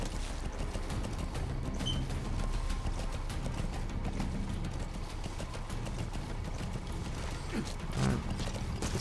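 Horse hoofbeats while riding in the video game Metal Gear Solid V, a steady clip-clop under a continuous low rumble, moderately loud, with a brief whinny-like squeal near the end.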